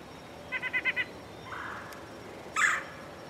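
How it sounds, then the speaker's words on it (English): A female red-bellied woodpecker gives a quick run of five short rolling notes followed by a louder harsh call, with a faint nuthatch nasal note between them, fairly near over a steady background hiss. "right here you will hear this female respond to a call of another red-bellied woodpecker."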